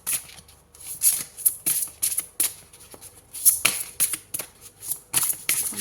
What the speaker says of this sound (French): je prends une deuxième carte